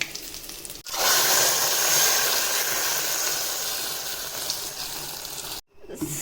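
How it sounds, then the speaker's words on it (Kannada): Loud, steady sizzling of mustard seeds and curry leaves frying in hot oil, a dense crackling hiss that holds for several seconds before briefly cutting out near the end. "ಆಮೇಲೆ ಒಗ್ಗರಣೆ ಹಾಕಿ"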